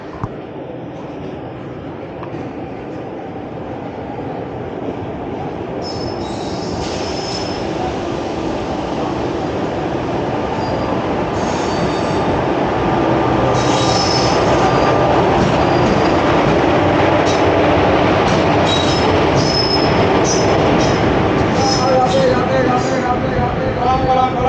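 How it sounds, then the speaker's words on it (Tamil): A train pulls into a station, its wheels and carriages rumbling and clattering louder as it nears, with squeals and rattles building over a steady roar and faint crowd noise around. "ட்ரெயின் வந்துருச்சுங்க"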